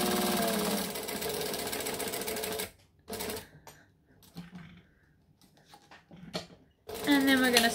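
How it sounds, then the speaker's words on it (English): A sewing machine stitches and back stitches across a bowler bag, running loud and steady, pausing in the middle while scattered handling noises and a voice come through, then whirring up again at the end. "And then we're going to stitch and back stitch."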